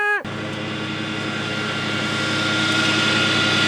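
A Bad Boy residential riding mower runs with a loud, steady mechanical whine layered over a droning engine. The sound starts abruptly and holds close and constant throughout.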